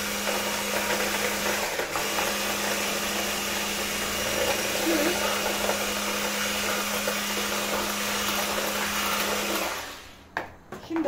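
Electric mixer whisking flour and semolina for a Turkish dessert batter, a steady high whirring drone that runs for about ten seconds before the motor cuts off, followed by a few clinks.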